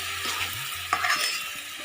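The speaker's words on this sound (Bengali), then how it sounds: "এবার আমি একটু জল দিচ্ছি।" Water poured into a hot cooking pan holding turmeric, with a soft sizzle and stirring scrapes at close range, and no voices.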